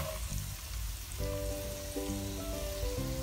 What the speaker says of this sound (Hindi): अब इसमें मैंने प्याज डाल देना है।